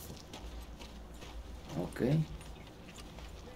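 Horse hooves clip-clop briefly in Red Dead Redemption 2, a short cluster of hoof beats swelling near the middle over game background noise, with a single spoken word.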